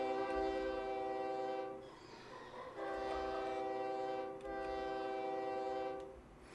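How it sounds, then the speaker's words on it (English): A loud, sustained train horn in the video game OpenTTD blares in long, steady blasts separated by short breaks, with a synthetic, game-like evenness and no voices. "honk the train horns"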